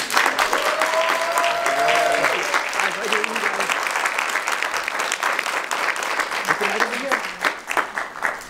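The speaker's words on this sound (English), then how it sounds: "Let us applaud this family." Wedding guests break into loud, sustained applause for a newly joined family, with clapping steady throughout and a voice briefly speaking over the start.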